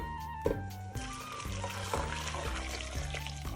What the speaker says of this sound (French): On va le verser sur les carottes